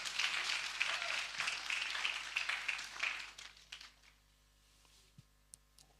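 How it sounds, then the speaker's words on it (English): Graduates at a presidential inauguration ceremony applaud themselves, a dense crowd of clapping hands that lasts about four seconds before thinning out to a few scattered, isolated claps. "You may want to clap for yourselves."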